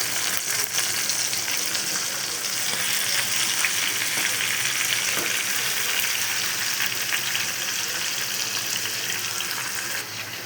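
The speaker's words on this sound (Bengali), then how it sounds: "এখন এই যে মাছের মাথাগুলো ভেজে নেব" Rohu fish heads fry in a pan of hot oil, giving a dense, continuous, close sizzle that holds steady without a break.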